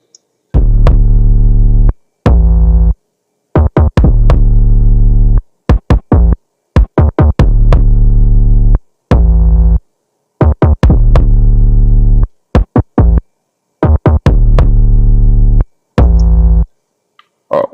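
Kick drum and bass playing together through sidechain compression in Reaper, heard as loud, repeating pulsing bursts with deep low end, separated by short silences, with no talking.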